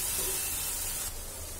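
Chili powder and turmeric paste frying in hot oil for a curry, giving a steady, close, loud hiss and sizzle throughout with no talking.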